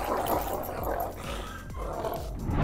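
A guard dog lets out a deep, fierce, growling bark that rolls into a rough, roar-like snarl, close and continuous over a few seconds.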